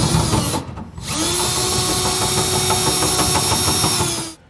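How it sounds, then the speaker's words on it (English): A power drill bores through the metal bed of a 2018 Ram 2500 pickup truck, a loud continuous whine that stops briefly near the start, then runs steadily before cutting off. "So we have our hole drilled out here, and it does take a little bit, so just be patient."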